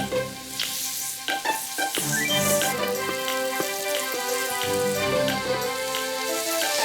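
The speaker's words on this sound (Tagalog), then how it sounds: "So habang binabrown natin yung ating kasim" Pork shoulder browning in a pan for afritada, with a steady close sizzle and frying crackle under occasional stirring clinks and scrapes, no talk.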